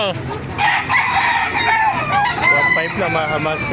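Roosters and chickens at a poultry market in Baliuag, Bulacan crow and cluck loudly and continuously, close by, while someone talks over them.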